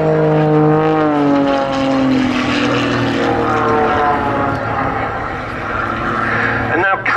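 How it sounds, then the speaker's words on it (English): Aerobatic propeller aeroplane flying a display at the RAF Cosford Air Show, its engine droning loudly and steadily with a shifting pitch as it rolls and dives, while a commentator talks over it throughout. "Has an amazing rate of roll, this aeroplane."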